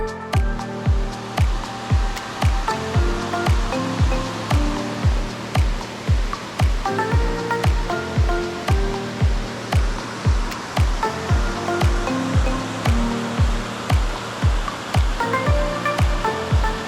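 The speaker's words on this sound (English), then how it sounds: "This is Dudley Falls, and as you can see, it opens up into this big pool below the falls." Dudley Falls on Paint Creek in North Carolina pours steadily into a big pool below, a loud, constant rush of falling water that runs unbroken and close throughout.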